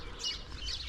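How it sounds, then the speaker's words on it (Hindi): Evening birdsong in a Pakistani village: two brief, high chirps sound faintly over soft background hiss, with no voices. "परिंदों की चहचहाती आवाज़ें"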